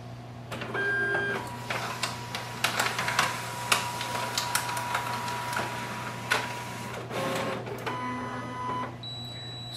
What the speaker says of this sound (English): So printer is quick and it will do the scan quickly.